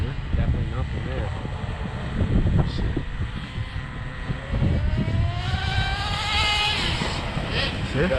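An HPI RS4 nitro RC car engine running, a high buzzing whine that rises and falls with revs while people talk over it.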